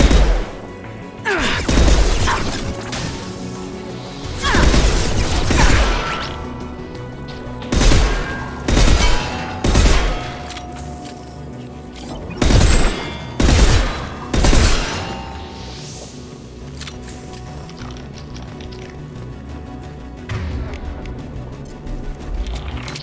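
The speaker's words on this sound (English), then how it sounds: "Firing a high-impact shot." Heavy weapon fire in the sci-fi shooter Mass Effect 2 lands as a series of loud, sharp blasts and crashing impacts, some grouped in quick bursts, separated by short lulls filled with low rumbling.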